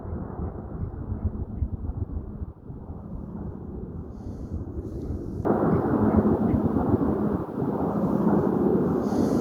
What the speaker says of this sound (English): see one of these military planes that often fly